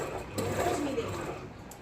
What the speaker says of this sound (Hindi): और सिलाई जैसे अभी मैं चला रही हूँ बराबर, देखो मैं कितना फास्ट चला रही हूँ ना